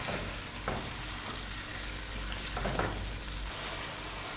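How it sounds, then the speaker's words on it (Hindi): Chicken sautés with yogurt and nihari masala in a pan, a continuous soft sizzle with a couple of brief stirring scrapes, close and fairly quiet, with no talking. "दही डालने के बाद हम इसको चिकन के साथ भून लेंगे।"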